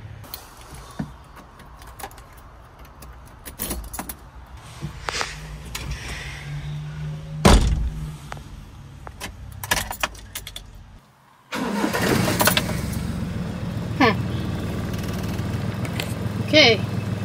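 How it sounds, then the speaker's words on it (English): A Honda Acty mini truck engine cranks and catches after a new ignition coil and condenser are fitted, with scattered clicks and clunks first, then a steady, close idle rumble. "So now let's reconnect the battery and turn the truck on."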